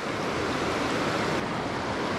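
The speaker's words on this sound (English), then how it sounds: "Got a lot of water running through there." Water rushing through a washed-out backpacking trail, a loud, steady broadband roar like surf, close by and continuous, with some wind buffeting the microphone.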